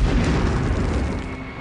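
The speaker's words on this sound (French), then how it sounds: "on va lui foutre une grenade et on va voir ce que ça donne" A deep, heavy grenade explosion from the Medal of Honor PlayStation game booms throughout, loud and rumbling, then slowly decays with no talk.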